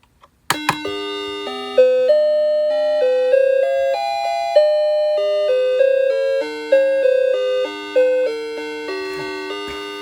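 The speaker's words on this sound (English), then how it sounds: "The 12 o'clock chime is also one of my top favorites, so I'm going to go ahead and push it again." A tabletop mantle clock plays its full 12 o'clock chime melody, a loud, clear sequence of ringing bell notes that rise and fall in a steady tune, sounding alone with no talk.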